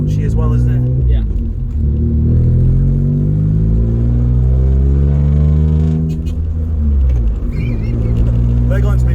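Modified Citroën C1 driven on the road, a loud close engine drone rising and falling through the revs with cabin rumble, while people talk over it.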